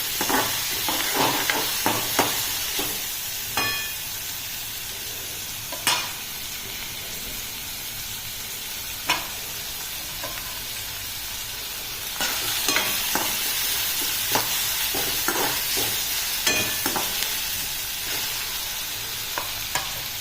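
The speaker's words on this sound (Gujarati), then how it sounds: "કલર ચેન્જ ના થાય ત્યાં સુધી એને સાતળવાનું છે।" Chicken pieces sauté in hot oil in a pan, a constant close sizzle and hiss broken by repeated scraping stirs, with no talking over the cooking.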